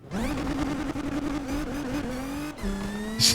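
A high, whining car engine in the racing game Need for Speed Unbound revs steadily with sharp harmonic tones, dipping briefly before climbing again, continuous and up close with no talking.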